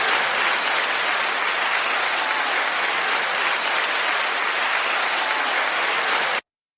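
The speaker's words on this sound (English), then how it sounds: "Cue the thunderous applause" A thunderous applause sound effect, a loud, even wash of massed clapping that holds steady for over six seconds before cutting off abruptly.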